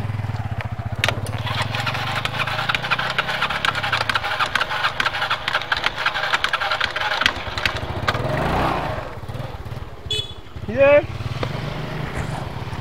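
A cold motorcycle engine runs with a rough, uneven idle and revs, close and fairly loud, while people talk over it; a brief rising whine comes near the end.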